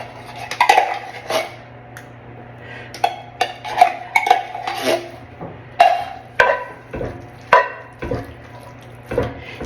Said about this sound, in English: Now we're just going to add the cream of mushroom soup. And mix that in.